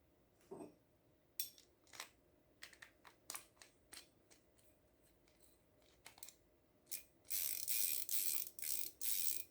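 Soft, quiet clicks and ticks from a Weebass Optimus fishing reel's drag, scattered at first, then several louder bursts of rapid ratcheting near the end.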